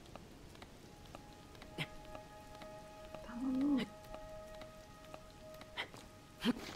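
Light rain pattering in Zelda: Tears of the Kingdom, a faint steady hiss with scattered drop ticks, overlaid by soft tonal game sounds and a short spoken word in the middle.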